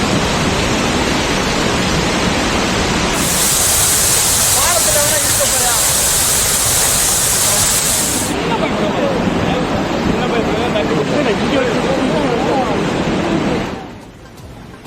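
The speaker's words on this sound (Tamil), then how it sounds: "ஆர்ப்பரித்து கொட்டிய அருவியில் திடீரென்று வெள்ளப்பெருக்கு ஏற்பட்டதால்" Floodwater roaring over Chinna Suruli falls in Megamalai during heavy rain, a loud, steady broadband rush of water that fills the whole clip and drops away near the end.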